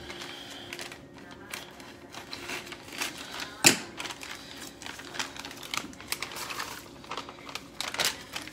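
Dry clicking and snipping sounds as scissors cut plastic shrimp packaging, one sharp snip standing out midway, close and fairly quiet.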